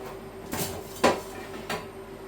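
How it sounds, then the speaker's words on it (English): Crispy dumplings for beef stew are lifted out of an air fryer with three short clatters and knocks of the basket and metal parts, close and fairly loud against a quiet kitchen background. "just getting them out the air fryer now"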